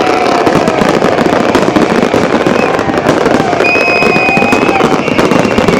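New Year fireworks for 2018 bursting in rapid, dense crackling volleys, loud and continuous, with a whistling rocket streak and a crowd murmuring faintly in the background.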